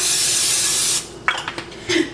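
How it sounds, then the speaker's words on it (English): Cooking spray hisses onto a pan in a short, loud burst of about a second, followed by quieter clinks and a brief rustle close by. "So I'm just going to spray my pan."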